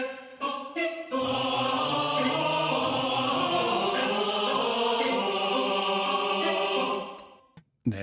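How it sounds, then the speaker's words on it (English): Sustained choir patches from the Nucleus Lite orchestral library swell in as a full, held vocal chord after a few brief opening notes, ringing steadily at moderate level before fading out. "they're the sustained choirs."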